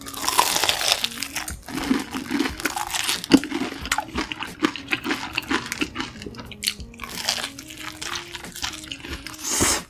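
Crispy croquette bread eaten with cheese sauce, heard up close as crunchy bites and moist chewing in an irregular rhythm, with soft crinkling in between and no talking.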